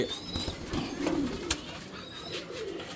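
Fancy pigeons at a breeding farm give low, soft cooing calls amid steady background noise, with a brief sharp click or flutter midway, fairly close and with no one speaking.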